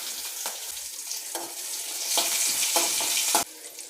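Ginger and green chilies fry in a pan while dal is being made, giving a close, bright sizzle with stirring scrapes and bursts of crackling. A brief splash of louder frying comes near the end, with no talking.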